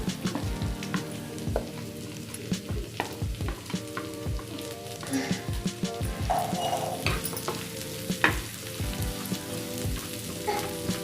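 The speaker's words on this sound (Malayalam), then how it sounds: "ഇതിലേക്ക് നമ്മൾ കട്ട് ചെയ്ത് വെച്ചിട്ടുള്ള സവാള ചേർത്ത് കൊടുക്കാം." Sliced onions frying on a hot tawa for paneer tawa masala, with continuous close sizzling and crackling and frequent scraping and stirring taps of a spatula against the pan.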